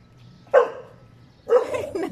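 A street dog gives two short barks about a second apart while being fed, fairly close, over quiet background.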